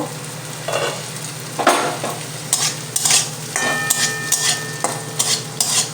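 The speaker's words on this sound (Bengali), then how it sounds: "ঢাকা চাপা খুললাম খুলে একটু নেড়ে দেব" Semolina stirred in a frying pan: repeated scraping strokes over a steady background sizzle, with a brief faint tone partway through.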